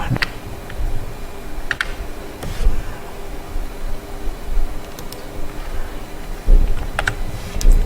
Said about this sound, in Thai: แล้วเราก็ไปพิมพ์คำว่า Classflow